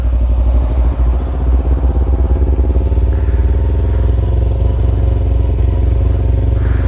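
A motorcycle engine runs with a steady low, rapid pulsing throb, loud and close, holding an even idle-like rhythm throughout with a brief dip near the start.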